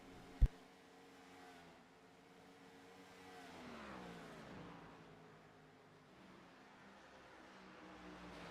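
Race car engines in the iRacing sim at Rockingham, a steady blended drone of several cars circling, moderately loud with a rising surge midway and a brief sharp thump near the start.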